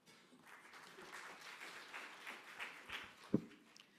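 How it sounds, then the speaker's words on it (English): Soft, distant applause from an audience, a steady patter of clapping lasting a few seconds. "A round of applause."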